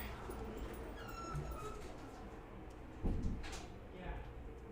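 Dogs bark and whimper indoors, faint and somewhat distant with a few yips, including a louder burst midway, while a person talks over them.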